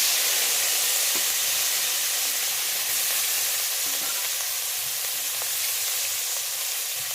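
Shrimp frying in a pan, a loud, dense, continuous sizzle and hiss that stays level throughout, with faint stirring underneath and no talking.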